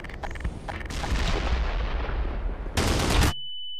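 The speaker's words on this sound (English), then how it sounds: "My rocket launcher." Rocket launcher firing in the video game Black Mesa: Xen, a roaring blast followed by a sustained rumbling explosion and a second loud burst before cutting to near silence with a faint tone.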